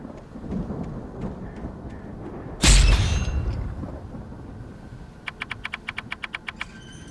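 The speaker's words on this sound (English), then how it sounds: "The storm raged on" Thunderstorm in Alan Wake Remastered: soft rain patter under a sudden loud thunderclap that cracks and rumbles away, followed by a rapid series of a dozen sharp clicking ticks, with no voices.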